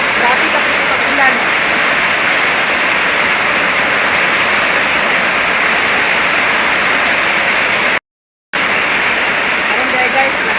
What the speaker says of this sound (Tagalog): Grabe ka po pag-ulan.